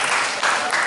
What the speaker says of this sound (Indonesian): Tepuk tangan untuk Bawaslu 2024.